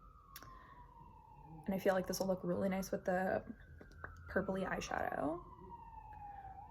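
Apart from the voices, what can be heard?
emergency vehicle sirens in a city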